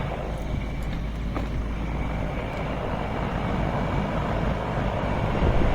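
A central air conditioner's outdoor unit runs with its compressor not running, giving a steady, close, unbroken droning whoosh with a low hum and no voices over it.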